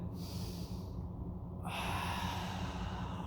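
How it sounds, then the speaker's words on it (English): Breathing during a mobility workout, with a slow drawn-in breath followed by a fuller, louder exhale, close and quiet with no talking. "Breathe in. And exhale."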